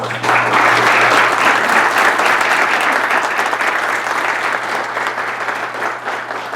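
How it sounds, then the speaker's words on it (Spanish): Loud, continuous audience applause welcoming panel guests at a political forum on leftist parties and Peru's 2016 elections, a dense crowd of clapping hands sustained throughout and slowly tapering. "recibamos también con fuertes aplausos a nuestros invitados"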